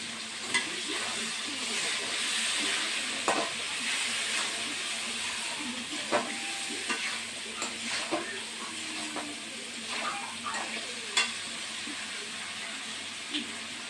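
Potatoes seasoned with turmeric and cumin paste are sautéed in a pan, giving a steady hissing sizzle broken by scattered clinks and scrapes of a spoon stirring, moderately close throughout.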